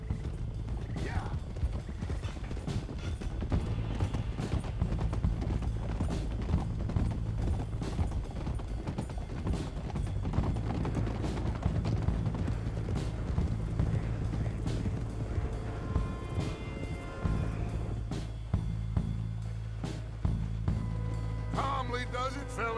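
Horses galloping in Red Dead Redemption 2, a steady drumming of hooves with creaking tack and an occasional whinny, mid-distance, with voices talking over it at times.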